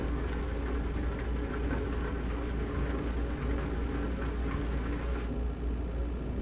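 Steady rain in Euro Truck Simulator 2 heard from inside a truck, a constant hiss of drops over a low engine rumble, unbroken and fairly loud throughout.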